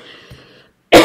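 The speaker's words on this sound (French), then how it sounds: "Je tousse encore un petit peu" A woman's single loud, abrupt cough bursts out close by after a stretch of quiet, with faint murmuring before it, lingering from bronchitis.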